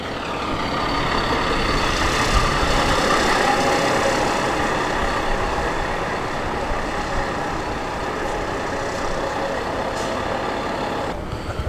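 A classic Foden lorry engine runs steadily and loudly nearby, a continuous diesel rumble that holds at a constant level for the whole stretch with no talk over it.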